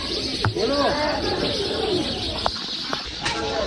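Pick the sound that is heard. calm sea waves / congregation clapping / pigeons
pigeons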